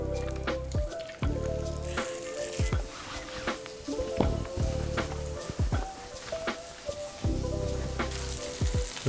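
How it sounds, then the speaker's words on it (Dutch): Chicken pieces frying skin side down in sesame oil in a pan, a continuous crackling sizzle with occasional sharper pops and bursts of spattering, close and fairly loud, with no voices. "En dan gaan we de kip bakken. Eerst met de huidkant naar beneden."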